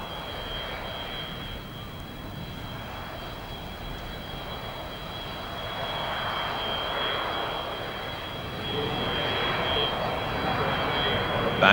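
A Tupolev Backfire swing-wing bomber passes overhead at an air show, its steady, loud jet roar swelling slightly toward the end, with faint talk underneath.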